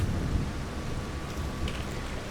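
Rain and thunder from the video game Farming Simulator 25, a steady dense patter with a low rumbling underneath, fairly loud and continuous, with no voices.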